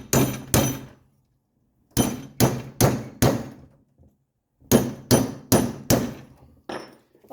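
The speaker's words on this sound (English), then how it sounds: "you want to go around the edge of the seal and just tap it in, because it's a press fit" A chisel taps around the edge of a press-fit seal during engine mount, bearing and suspension work on a 1985 wagon: sharp metallic knocks come in quick bursts of two, four and five evenly spaced hits, with short pauses between groups.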